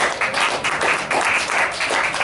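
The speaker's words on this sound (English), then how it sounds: "I'd like to give you all a round of applause." Audience applause for a group of ex-service members and emergency service workers, a steady wash of many hands clapping at moderate volume with no talk over it.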